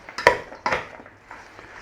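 A few sharp clinks and scrapes of a utensil against a bowl as spiced red cabbage and apples are tossed together, close up and sparse, with soft rustling in between.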